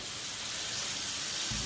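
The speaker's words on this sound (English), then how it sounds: "It is frying." Chicken, shrimp, bok choy, onion, peppers and pineapple stir-frying in a pan, a steady close hiss of sizzling with a brief low knock near the end.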